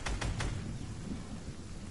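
Steady rainfall hisses through a video game scene, with a few low thunder rumbles and crackles near the start, then continuous rain fills the rest.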